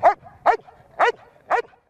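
A police dog, an energetic and agile working dog used for narcotics detection, barks four times in an even rhythm, close and loud, with short whimpering gaps between barks.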